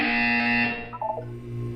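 A steady electronic buzzer tone from the video game Portal 2 sounds loudly and then cuts off, followed by a few short beeps and a low hum.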